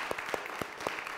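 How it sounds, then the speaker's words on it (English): Church congregation claps for a long-serving member at a Sunday service, a short burst of a few distinct, fairly quiet hand claps with gaps between them. "So I think Bill deserves a round of applause."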